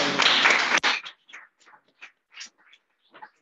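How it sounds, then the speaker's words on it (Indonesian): A classroom of students bursts into loud hand clapping for about a second, then the applause breaks off into a scattering of soft, isolated trailing claps. "Kita kasih tepuk tangan dulu."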